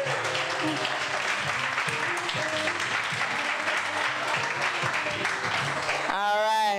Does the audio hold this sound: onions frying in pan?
no